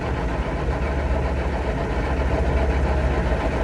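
A tractor engine idles steadily at close range while hay is being cut on a farm, a constant low rumbling drone with no speech over it.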